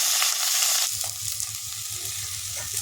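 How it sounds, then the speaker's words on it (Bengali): Chopped pumpkin and vegetables for a spring onion greens curry sizzle and rustle in a hot pan as they are stirred, with steady scraping and frying hiss, close and moderately loud. "আটা সেদ্ধগুলো ভালো করে তুলে নাড়াচাড়া করে নেব"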